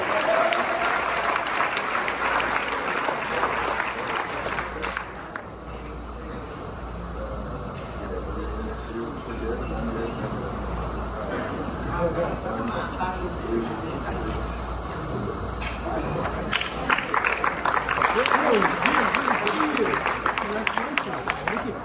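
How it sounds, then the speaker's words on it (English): Applause at a Rotary club annual awards luncheon for members who helped build a flag; a sustained round of clapping from the room, swelling at the start and again near the end, with talking mixed in. "Let's give all of these members a round of applause for helping build that flag."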